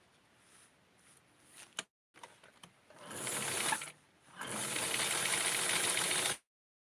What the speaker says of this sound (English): And I'm going to serger the top